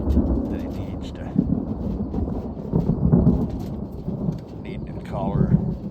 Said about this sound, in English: I'm gonna get in out of this weather because that is a thunderstorm